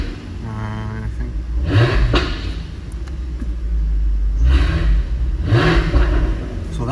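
A 2015 Jaguar F-Type convertible with active exhaust open gives deep engine rumbles and two distinct rising revs, idling low between them, recorded close to the car.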